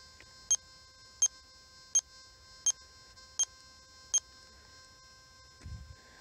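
A Gold Kruzer metal detector gives six short, evenly spaced electronic beeps at a steady pace, followed by a soft rustle.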